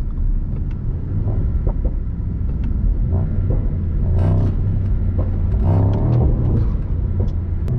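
Mercedes SL63 AMG engine driving through an Autobahn tunnel, a steady loud low rumble with rising revs and whirring swells echoing around, continuous throughout with no talking.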